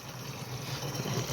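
Water runs steadily as a container is filled at a roadside stop beside a sugarcane lorry, a continuous close splashing flow with no voices.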